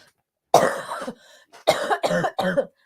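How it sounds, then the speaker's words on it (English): Several harsh, loud coughs come close to the listener, one long burst then three quick ones after a short pause. "Coughing into a cookbook."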